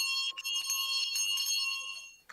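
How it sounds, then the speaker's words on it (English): A town crier's hand bell rings continuously, loud and close, with rapid metallic strokes and a bright sustained shimmer for about two seconds before cutting off. "ringing his bell to get everybody's attention"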